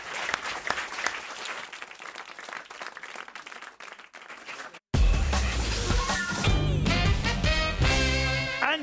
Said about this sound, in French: on vous remercie, on vous applaudit après tout